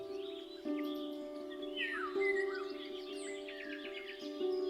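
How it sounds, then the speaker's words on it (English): A bird singing in the dense foliage of a walnut tree in summer, with loud flute-like whistles and melodious warbling phrases, moderately close over a steady background hum. "a loud whistling, like the sound of a flute, punctuates a melodious warbling in the dense foliage of a walnut."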